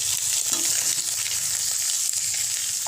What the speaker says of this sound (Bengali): আলুটা মধ্যে নাড়াচাড়া করে দিচ্ছি।